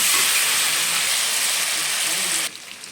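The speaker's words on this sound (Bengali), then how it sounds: "এবার কিছুক্ষণ এটা আমি ভেজে নেবো আলুটা ভালো করে" Potatoes with salt and turmeric fry in a pan, giving a loud, dense, steady sizzle that drops abruptly to a quieter hiss near the end.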